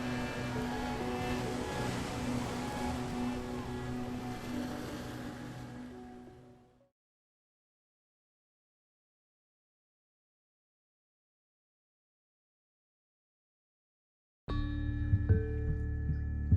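Ocean waves roll in a steady, full wash of surf for several seconds before fading out into silence, followed by a different loud low rumble at the end.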